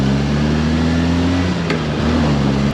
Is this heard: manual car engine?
yes